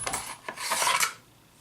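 Metal turnbuckle being unscrewed from the top of a Remington Versamax shotgun, giving a few short rasping, scraping metallic turns, close and fairly quiet, with no talking.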